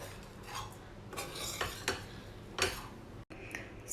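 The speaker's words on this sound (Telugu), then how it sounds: "కొత్తిమీర యాడ్ చేసిన తర్వాత రైస్ అంతా కూడా మరొకసారి బాగా కలిసేటట్టు మిక్స్ చేసుకోవాలండి" Lemon rice with coriander is mixed in a pan, giving soft scraping and clinking of a spoon against metal in uneven strokes over a faint sizzle, quiet and close, with no talking.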